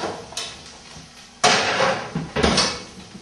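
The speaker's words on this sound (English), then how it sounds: "Let's put it in the oven." An oven door opening and closing in a home kitchen, two fairly loud thumping clunks about a second apart with faint handling noise before them.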